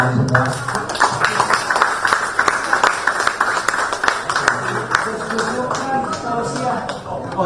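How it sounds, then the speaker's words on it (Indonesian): An audience applauds at an Indonesian press conference held by Gerakan Nurani Bangsa. The loud, dense clapping is steady and fills the room, with some voices mixed in. "Saya kira mari kita tepuk tangan semua."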